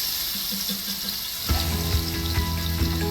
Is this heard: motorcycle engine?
no